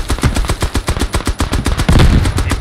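Rapid, loud automatic gunfire in the military shooter game Squad, a dense string of close shots cracking in quick succession with no pauses.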